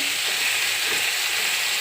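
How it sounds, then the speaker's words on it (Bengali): Bottle gourd greens frying in a pan with turmeric, making an even, steady sizzle close by with no stirring strokes or voices. "লাউ শাক ভাজা হয়ে গেছে। আলু শাকটা দিয়ে দিচ্ছি"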